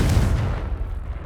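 Confringo spell blast from Hogwarts Legacy: one deep booming burst that hits hard at once and rolls off over about a second.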